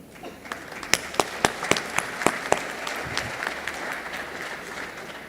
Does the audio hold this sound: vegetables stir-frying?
no